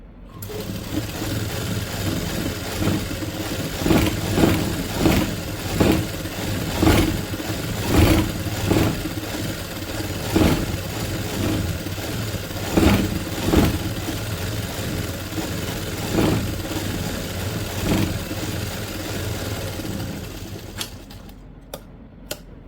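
A sewing machine stitching fabric runs steadily for about twenty seconds, its needle clattering in a fast rhythm with a low motor hum and regular louder thumps, close by, then stopping near the end.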